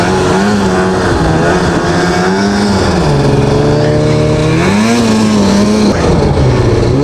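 A snowmobile engine drones and revs steadily on a rocky trail, its pitch rising and falling as it rides over logs, loud and close throughout.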